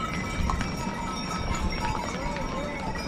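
Horses carry riders along the Kedarnath trek path in the Himalayas, their hooves clip-clopping faintly through steady outdoor crowd noise and wind, with someone talking in Hindi over it.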